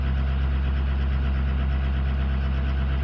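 An 06 truck engine idling after a cold start, a steady, loud low rumble with a constant drone and no breaks, close to the engine, with no talking.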